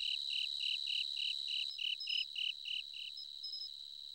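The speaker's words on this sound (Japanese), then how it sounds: "あ、いいよな、このスズムシの音。" Bell crickets chirp in Boku no Natsuyasumi, the PSP summer-vacation game, as a steady evening insect chorus: a regular train of bright, rapid chirp pulses over a faint hiss, with no voices.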